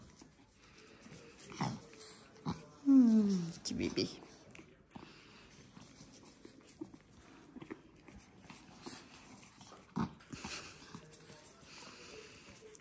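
Cavalier King Charles Spaniel puppies whimpering and squeaking at close range in short bursts while they play, with a louder yelp near the start, under someone talking softly.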